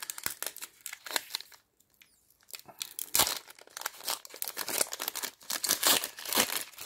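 A National Hockey Card Day trading card pack is torn open and its wrapper crinkled, with dense bursts of crackling and rustling close by and a brief quiet pause partway through.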